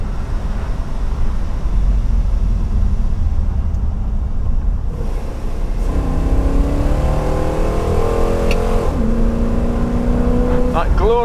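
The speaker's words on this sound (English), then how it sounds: "That glorious bellow, that V8 bellow, which can only come from 8 hungry carburettor throats." Aston Martin Lagonda Vantage V8 fed by eight carburettors bellows, starting as a low rumble and then climbing into rising revs with a loud, rich tone that swells and falls.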